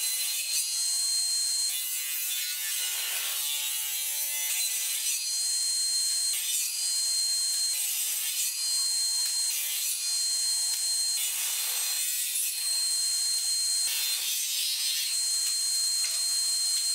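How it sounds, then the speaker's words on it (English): A table saw slices through thin wood veneer in a steady, high-pitched, continuous whine with a rasping edge, loud and close, running for several seconds with slight surges and no voices. "Now cutting the veneer on the table saw."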